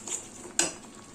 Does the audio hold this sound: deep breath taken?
no